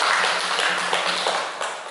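Applause from a classroom of students after a presentation, a dense burst of many hands clapping close by, steady through most of the moment and tapering slightly at the end.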